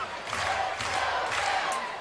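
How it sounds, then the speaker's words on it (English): A baseball crowd at a York Revolution versus Sugar Land Skeeters game roars and cheers steadily, a dense, distant wash of voices with rising whoops throughout. "You can feel the crowd getting right into it as well"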